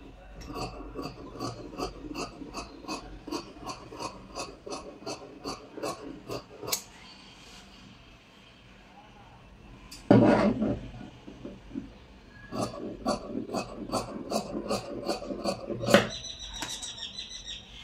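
Scissors snipping through fabric while cutting a maxi dress pattern, a quick regular run of crisp close snips, a pause, then further bursts of cutting and rustling cloth.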